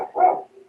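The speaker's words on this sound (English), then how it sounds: "my dog barking outside the door" A dog barks outside a door, a single short bark or yelp with a brief trailing whine, fairly close and clear, with no talking.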